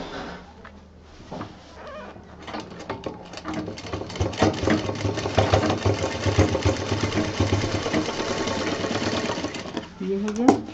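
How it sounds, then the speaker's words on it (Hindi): A sewing machine stitching a fabric bag seam, a steady fast mechanical whir and clatter running close and moderately loud, starting and ending with brief handling noises. "अब हम इसको अंदर सिलेंगे"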